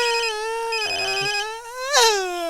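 Telephone ringing during a Malayalam comedy stage sketch: a loud, steady electronic ring tone, held with a slight waver and a brief upward lift near the end, with no talking over it.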